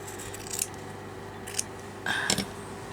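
Scissors snipping off a piece of stitching thread or fabric for a stitched journal, a few short crisp cuts close to the microphone over a steady background hum.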